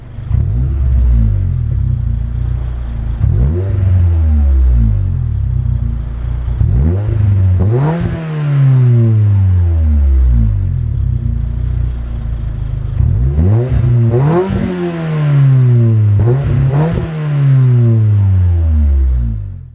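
A 133 hp Renault Twingo RS petrol engine pulls hard in second gear from about 40 km/h, revving up loudly through repeated rising sweeps with brief drops at each lift, a close continuous rumble and whine with no talking.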